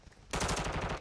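An EBR rifle in the Call of Duty Modern Warfare 2 video game opens up in a sudden, loud burst of rapid shots that runs through the rest of the second.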